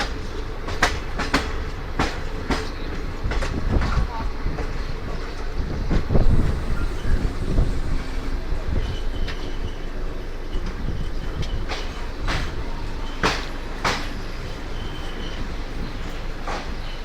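Aboard the Corbett Park Ranikhet Express running out of Marwar Junction, a continuous heavy rumble carries sharp, regularly spaced clicks of wheels crossing rail joints, steady and loud throughout.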